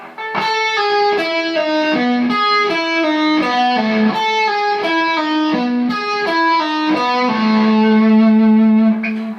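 Distorted electric guitar plays a flowing melodic phrase of single notes, steady and loud, with a sustained note at the end.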